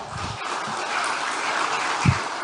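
Applause at a PDIP political event in Indonesia, a steady wash of many hands clapping from a seated audience, with a couple of low thumps standing out near the start and end.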